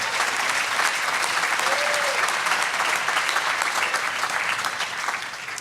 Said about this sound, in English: let's pause for a moment and give ourselves a round of applause